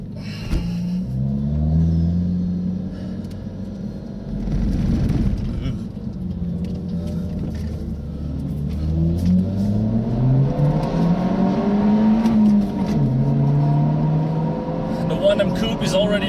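A BMW 1 Series drives on the Nürburgring, its engine drone rising and falling through gear changes, the rumble loud and steady throughout, with faint talk inside the car.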